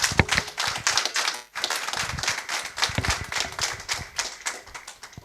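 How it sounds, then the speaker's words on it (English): Audience applause in a live radio morning-show studio, dense and continuous clapping with a short dip partway through before building back to steady, fairly loud applause. "please, a round of applause"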